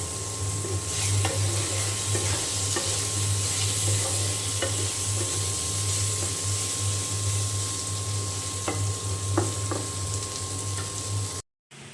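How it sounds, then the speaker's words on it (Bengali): Pointed gourd (potol) fries in hot oil with a continuous close sizzle, spattered with occasional sharp crackles and utensil taps, and a steady low hum runs beneath before a sudden cutoff at the end. "আর এখানে একটু পটল ভেজে নিচ্ছি।"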